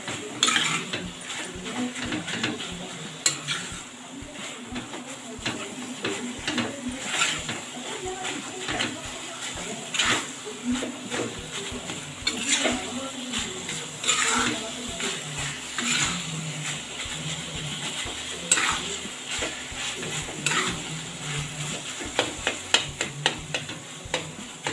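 Khoa is roasted and turned in a kadhai, with a spoon repeatedly scraping and clinking against the metal over a faint sizzle, and a voice talking at times.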